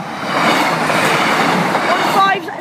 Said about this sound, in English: East Midlands train service from Lincoln Central to Leicester